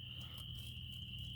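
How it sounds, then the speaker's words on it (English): Crickets chirp at night in Germantown Metropark, a steady high continuous trill held throughout, with a low hum of distant background noise beneath and no voices. "Still quite noisy, if you can't tell. You know, you've got the crickets"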